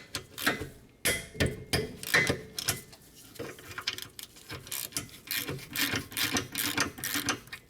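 A 14mm caliper bracket bolt being undone on a Hyundai Santa Fe rear brake, a close series of quick rapid ratchet clicks in bursts with short pauses between.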